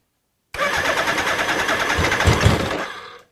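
A Suzuki GS1000 motorcycle engine cranks on the starter and tries to fire, giving a loud, rough, churning burst of a few seconds that sputters and fades without catching.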